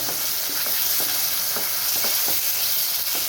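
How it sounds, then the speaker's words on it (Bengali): Chicken stir-fried with two spoons of biryani masala, loud continuous sizzling with rhythmic spatula scrapes about twice a second, close up and without speech. "আর দিয়ে দিচ্ছি কিছুটা বিরিয়ানির মশলা দু চামচ দিয়ে তাকে ভালো করে আমি নাড়াচাড়া করে কষিয়ে নেবো"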